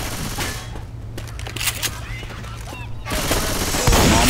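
Rapid automatic gunfire rattles in a co-op round of Left 4 Dead 2, loud and dense bursts with a sharper volley near the end, while game sounds and voices mix underneath.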